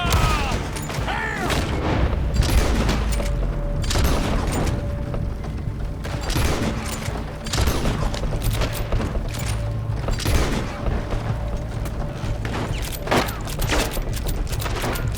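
Gunfire in the Western video game Red Dead Online: repeated loud shots and booming reports in quick bursts, mixed with thuds and mechanical game noises.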